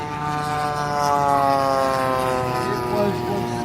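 A Supermarine Spitfire with a 12-cylinder Rolls-Royce Merlin engine flies at an air show, its droning propeller engine steady and moderately distant while someone talks over it.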